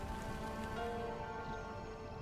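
Steady rain falls continuously, a soft even patter on surfaces with no voices, carried by seasonal warm winds as spring rains arrive across North America.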